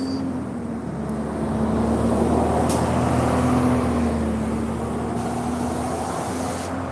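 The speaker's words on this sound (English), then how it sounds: "When you're just sitting at an intersection, it is so loud, bro." Steady road traffic at an intersection: a continuous, fairly loud rumble of cars, trucks and buses idling and passing, with a sustained engine drone and a couple of brief sharper hisses, no talking.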